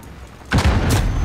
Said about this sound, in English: I need rockets. RPG. Right. Rocket back. There we go. Another rocket.